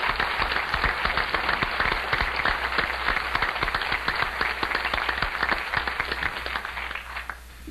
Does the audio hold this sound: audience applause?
yes